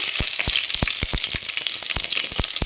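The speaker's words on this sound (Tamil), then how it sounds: "இப்போ கடுகு கடுகு கொஞ்சம் சேர்த்துக்குவோம் காஞ்ச மிளகாய் கருவேப்பிலை" Mustard seeds, dried chilli and curry leaves sizzle in hot oil in a kadai, a dense steady hiss punctuated by a rapid run of sharp pops and crackles as the seeds burst, close and fairly loud with no talking.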